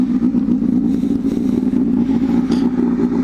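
A 1997 or 1998 Honda Hornet 250 motorcycle being ridden near Melbourne, its engine holding a steady, loud, close droning hum with slight rough texture throughout, no voices.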